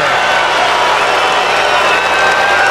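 An arena crowd at a BattleBots lightweight final reacts to a split decision with a dense, loud roar of cheering, clapping and mixed shouts that holds steady throughout.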